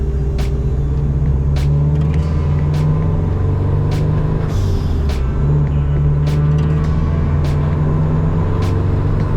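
A home-built rally prototype car with a newly fitted oil cooler and intercooler idles close by, a loud, steady engine drone with one brief dip and surge midway and no talking.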